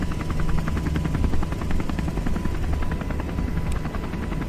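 Sikorsky UH-60 helicopter in a flight video game, its rotor beating in a loud, steady rhythmic chop with a constant engine drone throughout.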